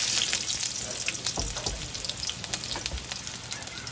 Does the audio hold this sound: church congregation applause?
no